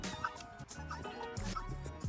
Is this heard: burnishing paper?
no